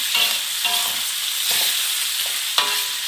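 Beef sizzles and is stirred in a pan for tongseng, with bursts of scraping stir strokes over a steady, close frying hiss.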